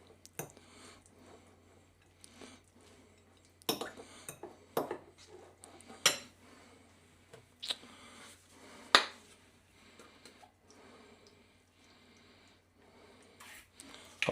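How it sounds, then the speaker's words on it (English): Peri-peri mayonnaise being stirred into a bacon and black pudding sandwich filling, quiet squishy mixing broken by several sharp clinks of a utensil on a bowl, close and sparse. "add some of my peri-peri mayonnaise, a good old of it, give that a bit of a stir around"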